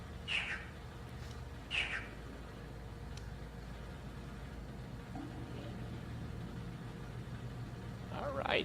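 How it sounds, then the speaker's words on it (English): Chirping calls in the Riven video game environment, two short bright bursts near the start and another near the end, set over a steady low ambient hum. "We heard that chirping sound when we saw that first symbol when we first got to Jungle Island"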